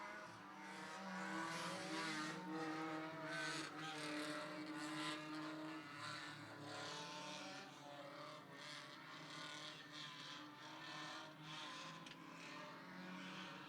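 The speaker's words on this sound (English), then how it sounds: "The Kennebec Equipment Rental Thunder 4 Minis take to the track" Thunder 4 Minis race cars running a 20-lap race on a track, a dense, continuous engine roar with shifting pitch as several cars pass, heard at a distance and fairly faint overall.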